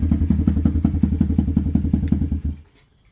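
Used Apollo RFZ 125 motorcycle engine running close by, a loud, rapid, even thumping putter lasting a couple of seconds before cutting out abruptly.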